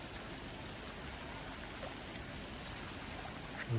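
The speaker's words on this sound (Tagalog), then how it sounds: "Ulan ng ulan dito." Steady rain falls in an even, close hiss that continues unbroken from start to finish.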